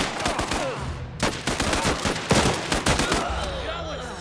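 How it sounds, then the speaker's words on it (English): Machine gun fire in the video game Last Train Home, a dense, loud stream of rapid bursts and single shots with brief gaps, close and continuous through the clip. "Machine gun being set up."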